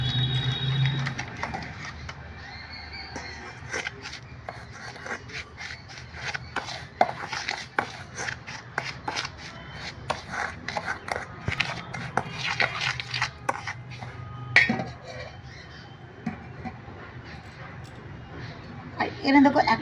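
Semolina being stirred together with a little salt and milk powder in a bowl, giving a steady run of dry scraping and rubbing strokes up close, with a voice talking over much of it.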